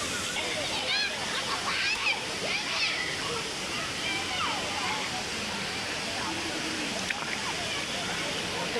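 Kumbakari waterfall pours in a steady, broad rush close by, filling the background without a break, with faint voices and splashing under it.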